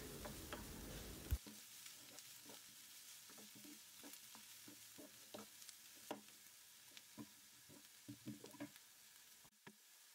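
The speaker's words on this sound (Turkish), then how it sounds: "soğanları ve biberleri karıştıralım." Onions and peppers stirred and sizzling in a pan while cooking okra stew, a steady soft frying hiss with frequent small scraping and clicking stirs, close and alone.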